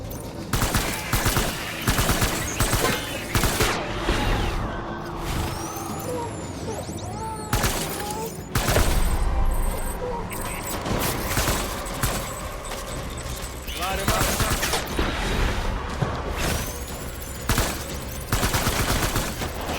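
Rapid gunfire crackles through a firefight in the Death Stranding video game, dense bursts of sharp automatic shots and scattered single cracks over mechanical clatter and background noise, loud and near, with brief pauses between volleys.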